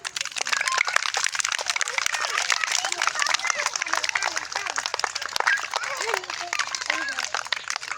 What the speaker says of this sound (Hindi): समस्ते ताली मारिबा